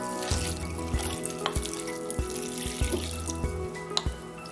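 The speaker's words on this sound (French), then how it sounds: "on fait juste ajouter de l'eau pour couvrir" Water pours from a tap into a slow cooker to cover beans for old-fashioned baked beans, a steady splashing stream close by with small knocks and drips, with no talk.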